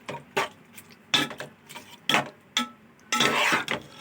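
Yogurt being stirred into chicken biryani masala in a pot, heard as a series of close, irregular scraping and clinking bursts of a utensil against the pot, with no talking.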